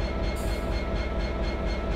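A train rolling past on the rails in the Train Simulator 2017 video game on the Settle to Carlisle line, a loud, steady rumble with rhythmic clatter of wheels over rail joints and no talk.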